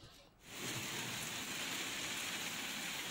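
Steady rain falls on a road, a dense, even hiss that swells in after a brief quieter start and then holds constant.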